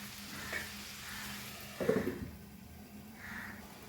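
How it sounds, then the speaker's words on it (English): Butter, pepper and garlic prawns cook covered over a low flame, giving a soft steady sizzle with a few brief louder crackles and spits, fairly faint and with no talk. "we'll cover this on low flame and cook this for few minutes"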